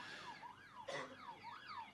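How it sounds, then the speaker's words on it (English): A wailing siren rises and falls in a steady up-and-down sweep, marking the final whistle of a Canberra Region rugby league match between Queanbeyan Kangaroos and Tuggeranong Bushrangers, faint and distant over open-air ground noise. "The siren sounds."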